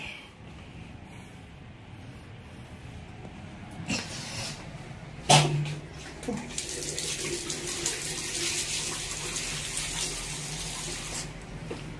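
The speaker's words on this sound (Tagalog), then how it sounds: "Tinesting ko lang yung gripo kung gumagana." Water runs from a faucet, starting softly then gushing louder after a clunk, flowing steadily and close by.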